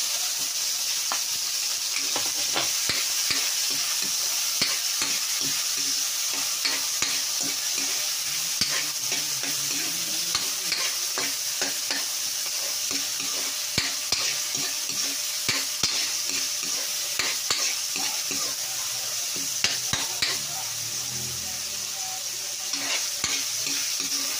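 Onions frying in a pan for chicken adobo, a steady close sizzle with frequent stirring scrapes and clicks running the whole time, no voices.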